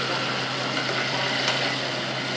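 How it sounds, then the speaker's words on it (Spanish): Catfish fries in a pan with soy sauce, giving off a steady, close, continuous sizzle and crackle that holds at an even level throughout, with no talking. "Mira, ahí que se cocine al sabor con la salsa de soya."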